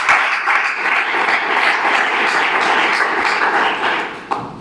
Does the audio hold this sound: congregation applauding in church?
yes